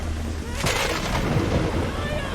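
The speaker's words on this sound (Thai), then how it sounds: "ฝนตก อุ้ย ฝนตกหนักเลยเฮ้ยพวก" Heavy rain and a thunder crack in Kena: Bridge of Spirits, a dense steady downpour with a sharp burst of thunder partway through, loud and close.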